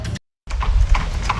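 Horse in an animated Hindi folk tale, a short burst of sound, a brief silent gap, then three evenly spaced hoof clip-clops, loud and close.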